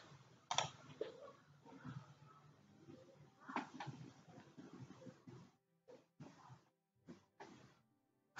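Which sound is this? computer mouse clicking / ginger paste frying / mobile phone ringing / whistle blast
computer mouse clicking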